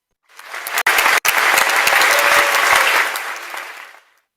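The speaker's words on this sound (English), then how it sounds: "let's all give a virtual round of applause to Governor Ana Luisa Bumagat" A virtual round of applause during an online general membership meeting: a dense wash of clapping lasting about four seconds, with two brief dropouts, steady and fairly loud before tapering off, with no talk over it.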